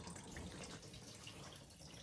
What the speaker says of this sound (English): Coolant is dripping out.